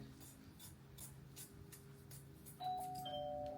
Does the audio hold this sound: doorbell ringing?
yes